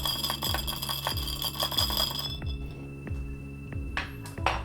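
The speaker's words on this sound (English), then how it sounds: "we're going to just give that a quick stir" Quick stirring of a Negroni cocktail, with ice and a spoon making light repeated clinks against glass in a steady rhythm, close and fairly soft, ending in a brief rattle.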